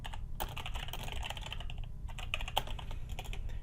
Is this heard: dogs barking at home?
no